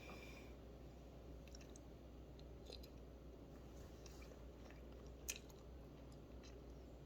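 Close, quiet chewing and biting on deviled eggs, soft squishy mouth sounds repeating over a low steady background hum, with one brief sharper click near the end and no talk.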